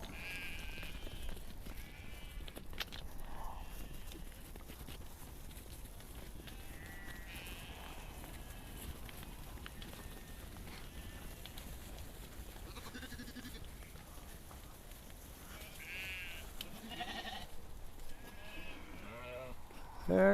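Sheep on a farm, rams, ewes and lambs, bleat now and then at a distance over about twenty seconds, faint and scattered against a steady outdoor background.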